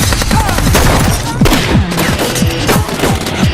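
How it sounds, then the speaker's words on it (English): Sustained automatic gunfire and rapid shots ring out in a movie shootout as the Chinese mafia opens fire on Carlito and his men, loud and dense throughout with booming impacts. "The Chinese mafia opens fire on Carlito and his men"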